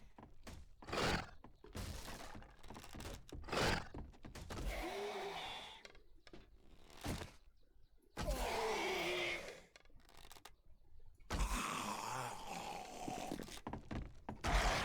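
A zombie enemy in the survival video game 7 Days to Die smashes at a wall, giving a series of loud, sharp thuds and crashing, shattering impacts in irregular bursts, with growl-like tones between hits.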